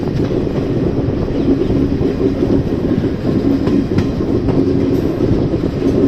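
Ranikhet Express train rolling along rails on a curved section, a steady loud rumble of wheels with faint clickety-clack, continuous throughout with no voices.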